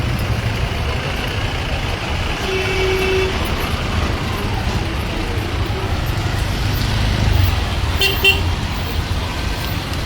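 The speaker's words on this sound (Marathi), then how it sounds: "हा नव्वद फूट मार्ग पूर्ण ट्रॅफिक जाम झाला" Dense road traffic jammed on 90 Feet Road in Chandivali, Mumbai, rumbles steadily as cars and trucks idle and creep, with a few short horn toots cutting through the din.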